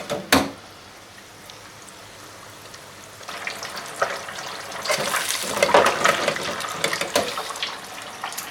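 Beer-battered baby shark fillets fry in hot oil, giving a steady crackling sizzle that swells and grows busier partway through, with sharper pops and bubbling bursts near the end and no voices.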